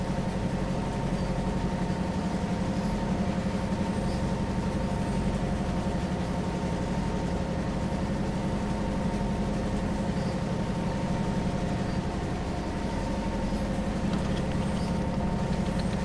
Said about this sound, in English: You gotta love the sound of a locomotive though. Pure engine roar.